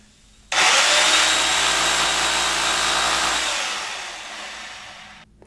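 Power drill with a 6 mm bit boring into brick for a curtain rod bracket, one loud continuous grinding whir lasting about five seconds that eases slightly before cutting off.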